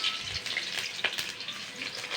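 Two chopped green chillies frying in a little hot oil in a heated kadai on low heat, a soft, steady sizzle with faint crackles, quiet and close, no one speaking.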